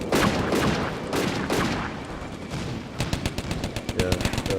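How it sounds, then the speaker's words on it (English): Flak guns in the Combat Mission: Afrika Korps wargame crack out a rapid series of sharp, evenly spaced shots over a rumbling battle backdrop, moderately loud, with a voice talking over the opening moments. "Yeah, the Flaks are shooting."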